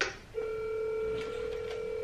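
Telephone keypad dialing tones ring out clearly from a phone during a prank call, a steady tone holding with short pulses of key presses over it, close and alone with no talk.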